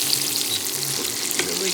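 Rosemary and garlic salmon frying in a pan, a loud close sizzle and crackle that keeps up throughout, with faint stirring clatter.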